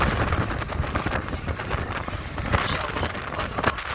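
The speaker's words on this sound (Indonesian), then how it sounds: "dengar gak ya jamaah semuanya? Suara angin yang kencang." Strong wind blows in Mecca, a steady, loud rushing roar with gusty buffeting against the microphone, continuous and without talk.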